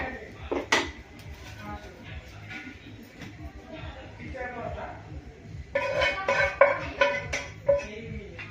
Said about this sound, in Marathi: खोबरं आपलं चांगलं भाजलेलं आहे आता आपण खोबरं काढून घेणार आहे